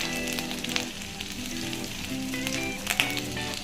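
Ingredients for semiya upma frying in a pan, a steady close sizzle with crackles and occasional stirring scrapes, no voices.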